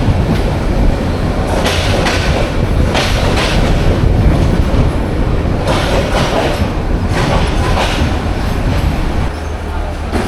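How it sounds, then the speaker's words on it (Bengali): The Agniveena Express from Mymensingh rolls into the airport railway station near Dhaka, a loud close rumble with rhythmic clatter of wheels on rail joints, easing slightly at the very end. "বরাবর 1:26 মিনিটে বিমানবন্দর রেলওয়ে স্টেশনে অগ্নিবীণা এক্সপ্রেস ট্রেন প্রবেশ করলো।"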